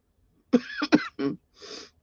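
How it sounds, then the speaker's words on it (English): Four short, harsh coughs in quick succession from one person with a nagging cough, close to the microphone, with brief pauses between them. "This nagging cough is terrible."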